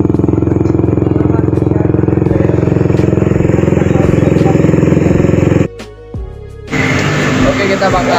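A modified Honda CB motorcycle engine with a DOHC Satria FU150 head idles loudly with a steady rumble, cuts out briefly, then starts up again with a sharp rising roar.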